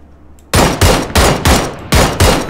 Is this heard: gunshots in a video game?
yes